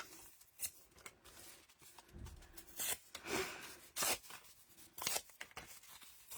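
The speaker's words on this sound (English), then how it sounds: "I'm just going to tear them up." Scrap paper torn by hand for a mixed-media journal page: a series of short, close, dry ripping bursts in irregular rhythm, with quiet rustling between tears.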